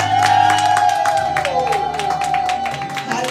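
A church congregation at a Sunday service cheering, whooping and clapping to acclaim Jesus, a dense crowd roar with scattered claps and sustained shouted voices.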